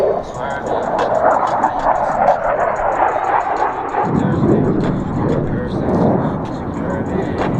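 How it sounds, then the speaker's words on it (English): An F-16 fighter jet flies a knife-edge pass at an air show, a loud broad roar that swells and shifts midway, heard under an announcer's commentary. "F-16 in the knife edge pass."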